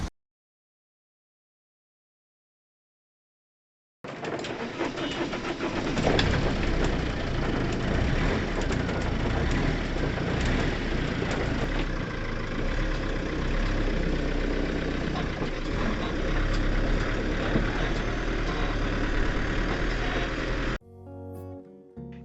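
Converted school bus engine idling, a steady low diesel rumble that starts abruptly after several seconds of silence and runs loud and close before cutting off near the end.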